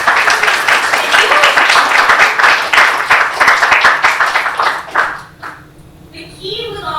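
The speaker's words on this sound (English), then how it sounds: "can we give Mary another round of applause?" An audience at a singing masterclass claps in a lively, close round of applause that tapers off near the end, followed by a voice speaking briefly.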